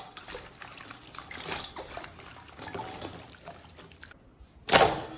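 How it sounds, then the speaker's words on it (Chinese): Bird's eye chili peppers, stems left on, are washed in clean water in a basin, with close splashing and trickling and a louder splash near the end. "我们再次加入清水，给它清洗2遍"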